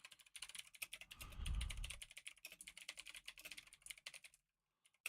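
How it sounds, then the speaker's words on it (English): Fingers type on a computer keyboard in a quick, uneven run of close, crisp key clicks, joined briefly by a low rumble before stopping into near silence. "I'm just typing this in."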